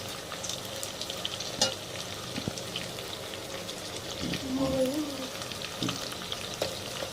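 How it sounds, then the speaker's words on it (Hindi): Taro root (arvi) frying and stirring in a pan, a continuous close sizzle like light rain with occasional scraping stirs, no talk. "ये देखें हमारी अरबी भून रही है।"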